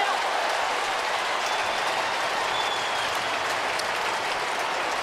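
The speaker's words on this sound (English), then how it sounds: "There was an enormous Bronx cheer then from the Melbourne fans when Melbourne actually kicked the ball." Melbourne fans at the MCG give an enormous ironic cheer during an Australian football match against Fremantle. The dense, roaring crowd noise holds steady and loud from start to finish.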